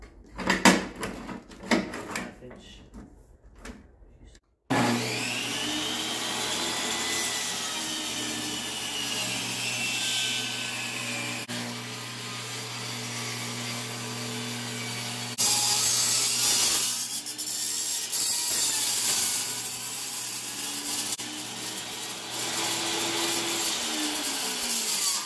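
Scrap wood pieces for a chicken coop are cut with a saw in one long, steady, close grinding run, after a few seconds of knocks and handling noises at the start.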